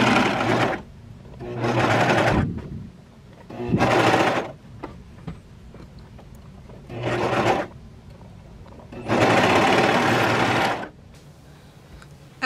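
A sewing machine stitching swimsuit fabric runs in five close, loud bursts of rapid steady stitching of one to two seconds each, separated by quiet pauses with faint handling noise.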